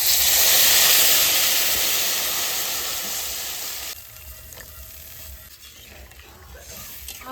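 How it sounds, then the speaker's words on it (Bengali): Potatoes frying in a pan with salt and turmeric give a loud, steady sizzle that fades and settles into a quieter, crackling simmer once water is added. "আলু হয়ে গেছে জল দিয়ে দেবো"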